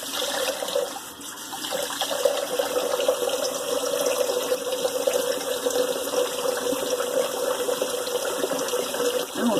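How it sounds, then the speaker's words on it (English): Cold water running steadily from a tap, a continuous faint hiss and trickle with no pauses. "let me rinse with that cold water I have running"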